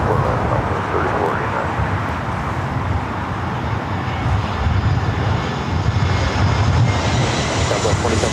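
A Southwest airliner takes off from runway 24 left at LAX with a loud, broad engine roar that swells steadily, rumbling close by.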